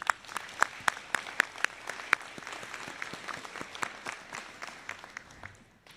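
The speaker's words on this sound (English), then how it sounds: "let's take a moment and give ourselves a round of applause" Graduates and guests at a university commencement applaud, a dense patter of many hands with a few sharper claps standing out, moderately distant and steady before tapering off at the end.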